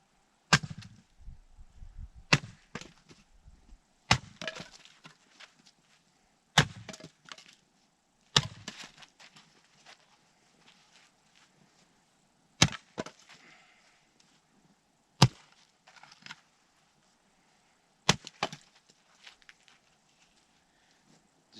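Axe splitting wood into kindling, struck in sharp, loud separate blows every two to three seconds, each one a crisp crack with a brief splintering rattle, with quiet gaps between strikes.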